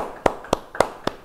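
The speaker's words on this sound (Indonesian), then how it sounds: "Sekali lagi beri tepuk tangan yang meriah." Church Bible study audience clapping in four separate sharp bursts, evenly spaced and fairly loud, with no voices over them.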